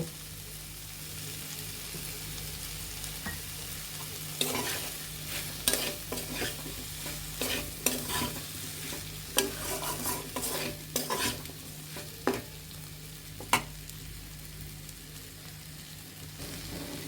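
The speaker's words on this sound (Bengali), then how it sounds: "আমাদের টমেটোগুলো কষানো হয়ে গিয়েছে এখন আমরা ভেজে রাখা চিংড়ি মাছগুলো দিয়ে দিব" Fried prawns are stirred into tomato masala in a pan for a country-style prawn curry. Repeated sharp scrapes and clacks of a spoon sound over a steady sizzle, with no speech.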